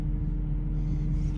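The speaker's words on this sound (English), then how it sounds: "It has to be from the fuel pump. It's always it's just this humming." A low, steady hum from the fuel pump of a 2004 Mercedes, a constant droning rumble that holds level throughout with no talking.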